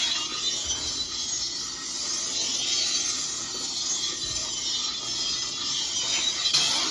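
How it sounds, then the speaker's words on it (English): A toy lightsaber from Theory Sabers holds its locking effect, a continuous loud crackling, buzzing hiss that runs steadily for several seconds with no talking over it. "if you want the lightsaber locking sound, just press and hold 1 time."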